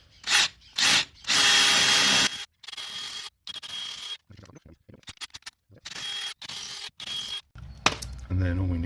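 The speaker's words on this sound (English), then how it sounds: "So let's just drill these quickly." A power drill bores a series of holes for raw plugs to mount a BT Full Fibre customer service point, running in several loud bursts of a few seconds each, with brief pauses and handling noise between them.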